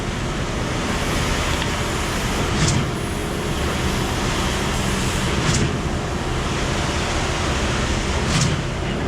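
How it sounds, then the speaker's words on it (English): Concrete pump pushing concrete through a 4-inch hose while pouring a slab for an ice arena, a steady loud mechanical roar with a sharp periodic pump stroke recurring about every three seconds. "And listen to the pump make beautiful concrete pumping sounds."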